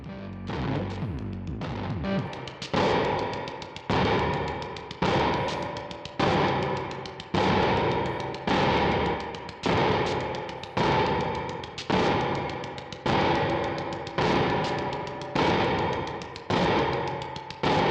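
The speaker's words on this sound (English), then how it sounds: "So this is the reverb we're hearing now." A Pulsar-23 drum machine beat plays in a steady repeating pattern, each hit trailing off in a splashy, metallic spring-reverb wash from a reverb pedal, loud and alone.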